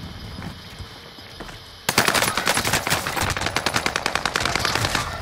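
Video game gunfire: after quiet ambient sound, a loud burst of rapid automatic shots erupts and continues as a fast rhythmic stream of close shots until the end, with no talk.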